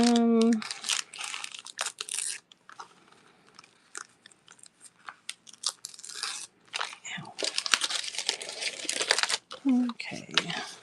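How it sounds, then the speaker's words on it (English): Crinkly paper handled while making a journal, giving bursts of crackling and rustling with short pauses in between, close and fairly loud, with brief voice-like tones near the start and end. "I love the way this paper sounds. It's nice and crinkly."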